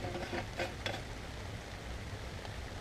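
Bison meat cooks in a canteen cup outdoors, with a faint steady sizzle and a few light metallic clinks early on, close but quiet and without talk.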